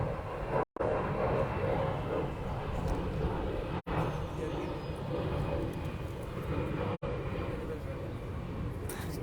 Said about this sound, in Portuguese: Que passou o avião.